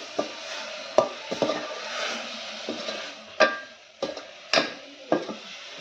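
Kolim (tiny dried shrimp) and potato being stirred and sautéed in a pan over a traditional Konkani wood-fired stove, with intermittent clinks and scrapes of a spoon against the pan over a soft sizzle.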